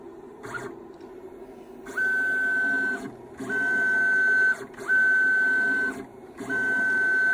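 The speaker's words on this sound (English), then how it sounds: "I'm using the X-axis to control the Z stepper motor" Stepper motor on a CNC 6040 router, Z-axis motor driven through the X-axis driver, whines steadily in four repeated runs of a second or so each, with short quiet pauses between moves.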